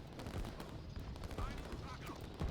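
Faint, distant bursts of rapid gunfire come from Commando infantry units in a tank strategy game match, crackling steadily in the background.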